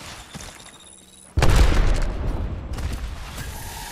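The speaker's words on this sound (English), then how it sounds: "Grenade, heads up." A grenade goes off in the battle-royale shooter Apex Legends, a sudden loud boom after a quiet moment, followed by rumbling debris and scattered crackle.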